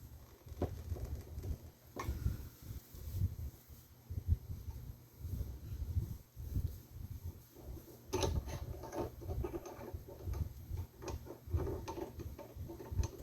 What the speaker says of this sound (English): it don't take much to tighten these cutting tools down in this